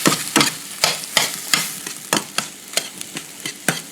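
Defrosted, previously frozen scrambled eggs cooking in a pan, with a spatula scraping and stirring in a steady rhythm of sharp strokes about twice a second over a soft sizzle, close and alone.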